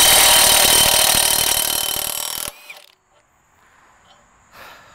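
A Hercules Ultra Torque impact wrench on a 12 amp hour battery, in mode 3 at roughly 750 foot-pounds, hammers loudly and continuously for about two and a half seconds, then stops abruptly, leaving faint mechanical ticks and quiet.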